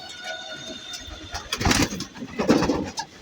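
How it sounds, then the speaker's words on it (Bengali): Pet flying pigeons at feeding time, soft cooing and wing flutters swelling in the second half, close by, with faint engine hum in the background. "এই যে আমার কবুতরগুলো"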